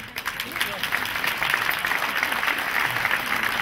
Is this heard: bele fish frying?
no